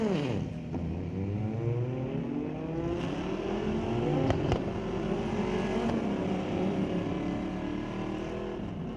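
A Honda drag car at Mission Raceway Park's street legal drags, its engine revving and roaring away down the strip with shifting harmonic sweeps, heard from a distance at moderate loudness.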